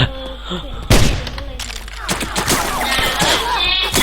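Sustained gunfire from the shooter game Line of Sight, a sharp loud burst near the start followed by continuing rattling shots, with someone talking excitedly over it.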